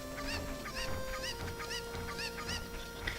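Cuccos from Zelda: Ocarina of Time cluck in a steady, repeated rhythm, their bright in-game calls looping evenly over a constant synthetic background hum with no talk.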